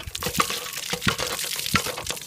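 Water gushes from a hand pump beside the Jhelum River at Rasul Barrage, coming in uneven pulsing surges with each stroke of the handle, close and fairly loud.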